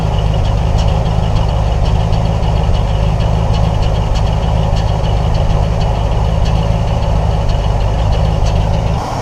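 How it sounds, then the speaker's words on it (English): A 1977 Ford Thunderbird idles with a steady, loud exhaust note and a slight misfire, a continuous low rumble with faint irregular pulses and no talking. "I can't get it to misfire under load, at least enough to where I can feel it, but you can hear it if you listen to the exhaust note."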